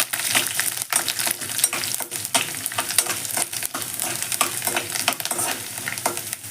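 Urad dal, chana dal, mustard seeds, cumin and garlic fry in oil for gongura dal, a continuous close sizzle with repeated scraping and stirring strokes from a spoon against the pan.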